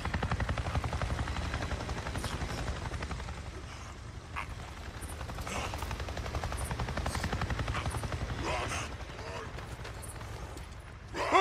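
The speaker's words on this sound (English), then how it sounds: "I just saw a goddamn chopper!" A helicopter in the video game Days Gone flies overhead, its rotor chopping in a steady, loud beat throughout, with a few brief higher sounds and a sharp jolt at the very end.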